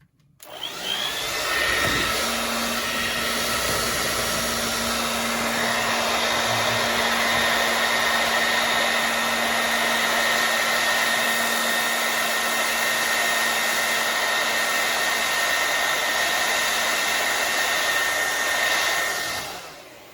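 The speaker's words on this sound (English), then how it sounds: "I'm going to blow dry this." A hair dryer runs steadily for the whole stretch, a loud close whooshing roar with a constant motor whine, switching on at the start and off at the end, drying alcohol ink.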